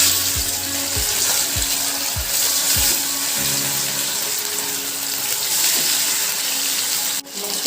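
Fish fries in hot oil in a pan with a steady, bright sizzle, punctuated early by a few low knocks and thuds, then a sharp clatter near the end.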